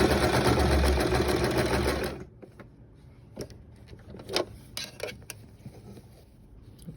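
A sewing machine stitches stretch velvet fabric for a mask, a loud rapid whirring hum for about two seconds that stops abruptly, followed by quiet handling clicks and rustles of the fabric.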